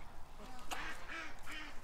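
Several ducks fenced in a muddy yard near a creek quack repeatedly in short, nasal bursts, close and moderately loud, against outdoor background noise.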